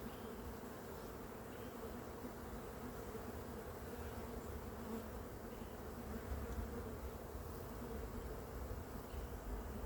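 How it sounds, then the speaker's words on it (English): A dense, steady buzz of many bees hums continuously, close and even, with no voices. "Oh, so many bees on here."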